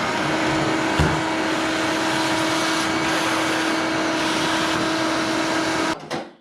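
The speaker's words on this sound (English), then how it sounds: "Vacuum it." A vacuum cleaner runs in a garage beside a racecar, a loud steady motor whine with a constant hum, a brief knock near the start, then cutting off and winding down at the end.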